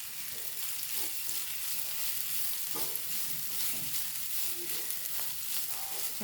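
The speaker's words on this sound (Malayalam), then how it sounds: "ഇളക്കി കൊടുക്കുക" Sliced okra for thoran fries in a pan and is stirred, a soft continuous sizzle with light scraping strokes, close and fairly quiet.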